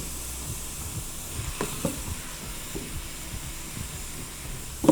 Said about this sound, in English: my meat has been frying for about 10 minutes